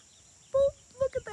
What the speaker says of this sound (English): The chickens are right next to the garden.